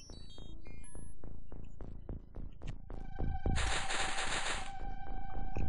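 Shotgun fire in OpenXcom, a quick series of sharp game shots in an uneven rhythm, followed by a bright ringing, buzzing game tone with pulsing hits underneath, close and loud.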